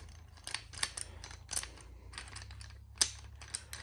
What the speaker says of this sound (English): I've snugged up those 3 bolts with the little ratchet, little 1/4 inch